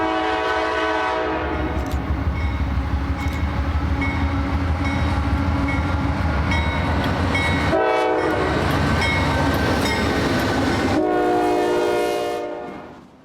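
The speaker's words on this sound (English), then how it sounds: "2 biodiesel AC-44 rebuilds running engines light" Two biodiesel AC-44 rebuild locomotives run light with no train behind them, a loud, steady diesel rumble with a horn blowing over it, before the noise fades out at the end.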